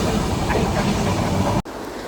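Train at Agra railway station in India, a steady, loud rumble of rail cars and track noise with no talk, cutting off abruptly near the end before a quieter stretch of station ambience.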